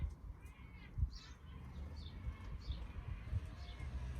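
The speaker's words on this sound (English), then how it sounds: "the squawking of the seagulls of Barry Island" Faint gull calls squawk repeatedly in the distance over low rumbling wind and traffic noise outdoors at Barry Island.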